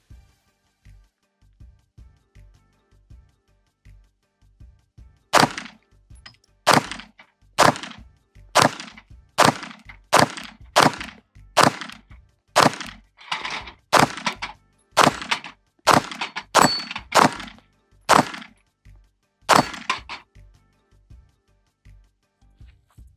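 About fifteen sharp, loud gunshots from an affordable double-stack 1911 pistol fire outdoors at a steady, fairly quick pace, with short gaps between shots.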